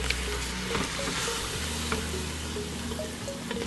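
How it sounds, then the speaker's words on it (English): A spoon stirs tomato sauce with flour in a pot for shrimp creole, a steady close sizzle with soft scraping strokes throughout, no voices. "I'm going to go ahead and add in the 3 cans of tomato sauce, one at a time, so I can mix them around nicely and get it incorporated"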